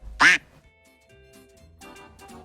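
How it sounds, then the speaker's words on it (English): A duck quacks once, loud and close, at the start of a children's story reading, followed by quieter tonal sounds and soft background noise. "Let's stop for a rest and make friends with that duck."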